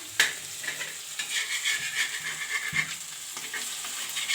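Fish tawa fry coated in masala sizzling on a flat griddle, a steady close frying hiss with occasional scrapes and stirring knocks, no voices.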